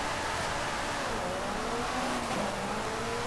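A McLaren 620R track car accelerating on a drag strip in Forza Horizon 5, its engine note climbing through quick gear changes in a loud, continuous roar.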